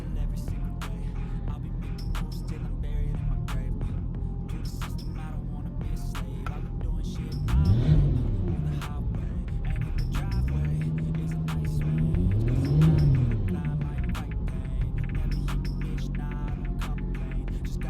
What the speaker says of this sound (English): Cylinder 3 certainly is misfiring.